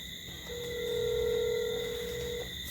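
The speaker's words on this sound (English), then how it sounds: "Answer. Ringing." A telephone rings once at low volume: a steady electronic tone swells and fades over about two seconds against a faint background hum, with no talk.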